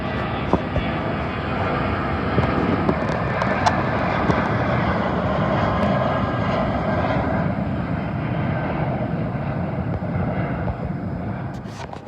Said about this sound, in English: Now we have a Boeing 737-800 of Royal Maroc flying home to Casablanca.